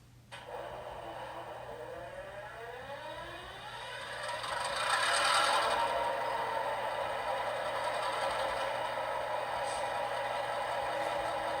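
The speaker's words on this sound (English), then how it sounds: "now let's go through the startup sequence of this GP38-2." An HO scale GP38-2 diesel locomotive model with a Tsunami 2 sound decoder runs its startup sequence: a cranking whir catches into a steady, moderately loud diesel idle rumble.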